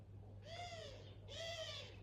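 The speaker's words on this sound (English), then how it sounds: "And some doves have just come through." Two soft, hollow coos from a dove sound one after another at moderate distance, each a smooth rounded call, over a low steady hum in an outdoor setting.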